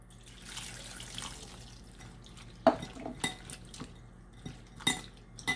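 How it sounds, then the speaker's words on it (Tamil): Soaked bitter gourd is rinsed in a glass of water, giving soft sloshing and watery drips with a few sharp glass and utensil clinks, fairly quiet and close. "இதை ஒரு கிளாஸ் தண்ணி ஊற்றி நான் அப்படியே அலசிடுறேன்."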